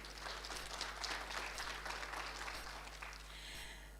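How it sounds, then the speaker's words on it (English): Applause from a summit audience, faint and distant over a steady low hum, holding fairly evenly for about four seconds. "Please give yourselves a round of applause for just being here today"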